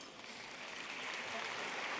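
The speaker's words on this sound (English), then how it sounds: "we will applaud them as a group" A commencement crowd applauds the Board of Regents as a group, a steady, even wash of clapping from many hands that holds at moderate loudness throughout without breaks.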